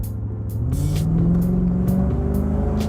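Jaguar XK8 V8 engine in sport mode, its automatic gearbox downshifting on its own; the engine note sweeps upward as it revs, a loud, close rumble with brief higher bursts.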